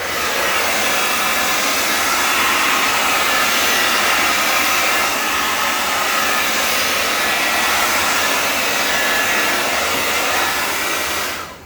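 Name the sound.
hair dryer blowing on acrylic paint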